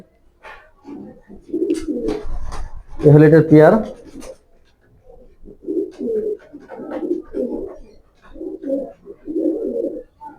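Young racing pigeons coo close by indoors in repeated soft, throaty bursts, with a voice speaking briefly in between.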